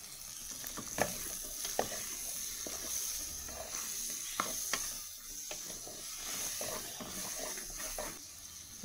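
Chopped onion stirred with fried sausages in a sizzling pan, a steady frying hiss broken by repeated scrapes and knocks of the spoon, close and moderately loud.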